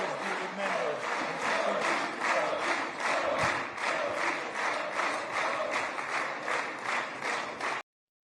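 Israeli lawmakers in parliament give a standing ovation, dense sustained applause with rhythmic clapping and crowd chanting, loud and continuous before cutting off abruptly.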